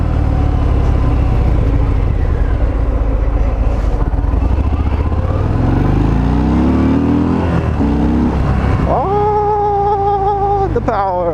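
A 2020 Harley-Davidson Fat Bob 114 motorcycle pulls hard through its gears, the deep engine note rising in pitch, dropping at each shift and climbing again before a final sustained high rev.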